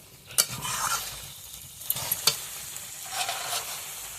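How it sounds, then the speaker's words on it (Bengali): Vegetables being sautéed in a pan for a vegetarian drumstick curry, with a soft sizzle under several sharp spatula scrapes and clicks, close and fairly quiet, no talking. "সবকিছু খুব ভালোভাবে কষিয়ে নিয়েছি।"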